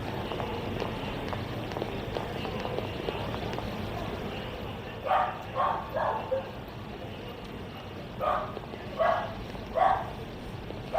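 Dog barking in the Lost Judgment video game, two bursts of three sharp barks each in the second half over a low background rumble of game ambience.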